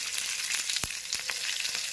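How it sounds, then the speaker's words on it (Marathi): Slit green chillies hit a pan of crackling cumin tempering for rava dhokla, producing a bright, steady sizzle with a few sharp pops and spits over about two seconds, close and without speech. "जिरे तडतडले की आपण त्यामध्ये टाकणार आहोत मिरची"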